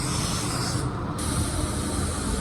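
A spray gun lays solvent-based base coat paint onto a car, a steady loud broadband hiss that runs throughout with a brief dip in the upper range midway.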